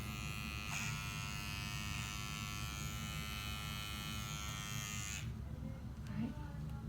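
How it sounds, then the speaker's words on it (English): An electric hair clipper buzzes steadily up close while cutting a boy's curly hair, then cuts off abruptly near the end, leaving a faint background hum, with quiet voices talking at times. "I'm going to take this clipper."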